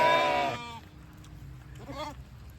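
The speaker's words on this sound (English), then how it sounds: "We have 3 lambs inside the hay ring." Lambs inside a hay ring bleating: one loud, close, wavering bleat followed after a pause by a shorter, fainter bleat.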